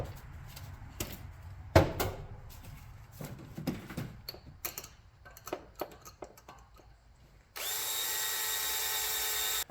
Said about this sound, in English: We'll drill the rest of the way.